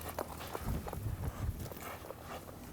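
A horse's hooves clip-clop on the ground during rope-breaking training, a handful of irregular, moderately close steps with some shuffling and no speech.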